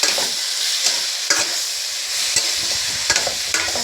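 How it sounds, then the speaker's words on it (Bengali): Chopped tomatoes sauté in a hot pan with a loud, continuous sizzle, while repeated spatula scrapes and knocks land every half second or so as they are stirred. "টমেটোটা দিয়ে আবার একটু নাড়াচাড়া করে নেব"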